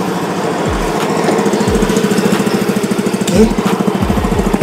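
A Honda PCX 125cc scooter runs close by with a loud, steady, rapid putter, broken by a few deeper low thumps as the engine note briefly dips.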